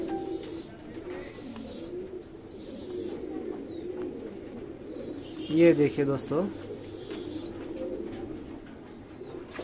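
Sarangpuri pigeons coo in low throaty warbles over a busy background murmur, with a brief spoken phrase nearby and a louder burst of cooing near the middle.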